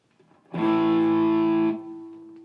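A sustained electric guitar chord through a Line 6 Helix with an 808 overdrive and plate reverb rings out with gentle overdrive, then decays into a lingering reverb tail.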